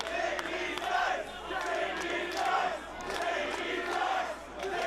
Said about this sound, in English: Crowd chanting Ziggy Dice.